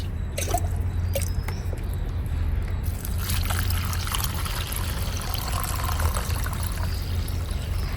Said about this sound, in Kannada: ಇದಾದಮೇಲೆ ಸ್ವಲ್ಪ ನೀರು, ಸ್ವಲ್ಪ ಅಲ್ಲ ಸ್ವಲ್ಪ ಜಾಸ್ತಿ ನೀರು ಹಾಕ್ಕೊಬೇಕು.